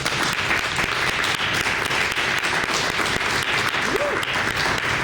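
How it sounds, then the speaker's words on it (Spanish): Steady applause from a church congregation at a Spanish-language ministry training session, dense and continuous throughout with scattered voices underneath. "Denle un aplauso al Señor."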